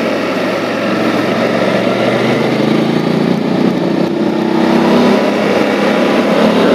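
Big trail motorcycle engine on a curvy road, a steady loud droning hum with wind rush, continuous throughout without speech.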